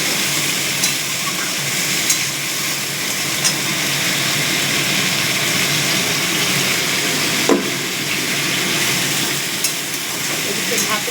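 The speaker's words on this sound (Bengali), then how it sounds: "লাউ এটাকে একটুখানি ভাজা ভাজা করে নিয়ে" Bottle gourd fries in a pan with a loud, continuous sizzle while it is stirred, and occasional scraping knocks from the utensil cut through the steady hiss.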